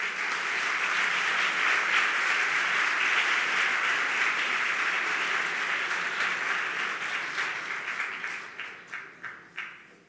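Sustained audience applause welcoming a speaker at a luncheon, steady and full for about eight seconds before thinning into a few scattered final claps.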